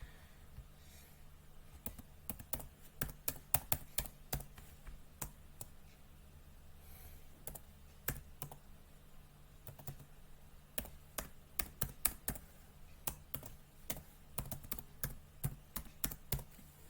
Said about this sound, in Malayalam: വേറെ ആൾ വന്ന് ഇങ്ങനെ ടൈപ്പ് ചെയ്ത് കൊടുക്കുവാണ്.